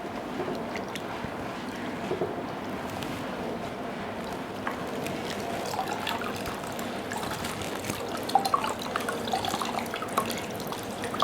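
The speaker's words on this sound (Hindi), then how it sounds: "तो इस पर पट्टी को पूरा गीला कर लेंगे।" Cold water from a refrigerated bottle soaking a wide cloth bandage, with steady soft trickling and dripping at close range, a few small splashes near the end, no talking.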